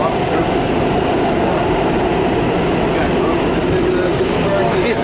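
New York City subway train riding near 21st Street–Queensbridge, heard from the middle of the car: a loud, steady rumble and wheel roar throughout, with faint high squeals near the end.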